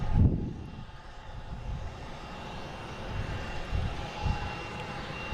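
An American Airlines plane arriving at Boston Logan from Myrtle Beach gives a low, distant, steady engine rumble with a brief louder thump at the start and gentle swells after.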